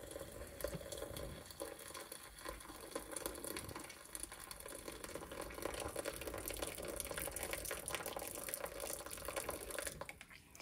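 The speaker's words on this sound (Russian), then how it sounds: "и заливаем в 2 раза больше воды" Boiling water is poured over 200 grams of buckwheat in a pot at home, a faint continuous trickling and splashing that lasts throughout, quiet and close with no voices.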